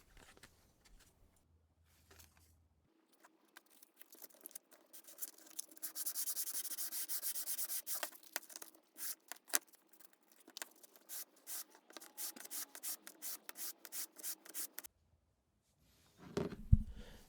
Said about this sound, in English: help with some sanding to ensure the edges are straight and perpendicular to the finished faces of the workpiece